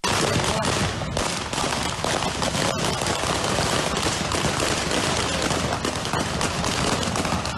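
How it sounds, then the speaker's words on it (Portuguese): Dense, continuous gunfire crackles loudly in rapid bursts during a police shootout, a chaotic barrage filling the whole clip without pause. "Na sequência, começam os disparos."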